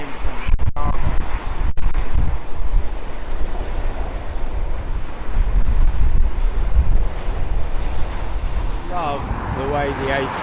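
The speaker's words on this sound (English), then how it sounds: "British Airways A350" A British Airways Airbus A350 arriving from Chicago on approach to land at London Heathrow, a loud, steady broadband engine roar with wind buffeting the microphone, continuous across the whole stretch before easing slightly near the end.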